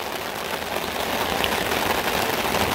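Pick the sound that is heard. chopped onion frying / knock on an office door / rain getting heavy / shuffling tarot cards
rain getting heavy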